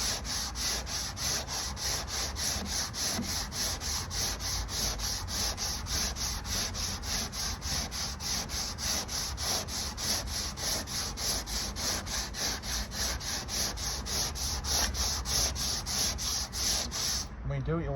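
A repair on a VW Transporter rear door is sanded by hand in steady back-and-forth strokes, a close rhythmic scraping of roughly two strokes a second that runs continuously before stopping abruptly, with no talking.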